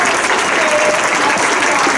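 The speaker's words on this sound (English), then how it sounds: "How about another round of applause for a soloist from that song?" A school band concert audience for sixth graders claps loudly for a soloist, a dense, unbroken burst of applause filling the short moment.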